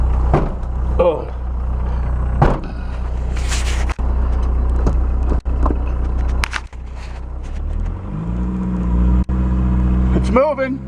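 An old VW 1.6-litre diesel caravan engine, idle for seven years, running rough with a steady low rumble and occasional revs and clunks, close by, with someone talking over it.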